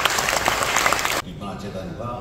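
A film festival audience in Gwangmyeong applauds the festival's executive chairman, a brief burst of crowd clapping that cuts off abruptly after a second, leaving a quieter room.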